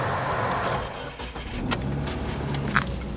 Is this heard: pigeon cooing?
no